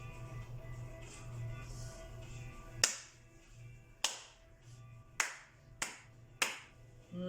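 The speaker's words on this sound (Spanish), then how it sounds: "el aplaudir también es un sonido." Five sharp, separate hand claps ring out at irregular intervals in a quiet room with a little reverb, following a few seconds of faint background noise.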